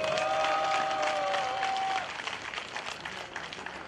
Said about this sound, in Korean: 여러분 다시 한번 조순덕 어머니와 우리 민가협 어머님들께 박수 한번 부탁드리겠습니다.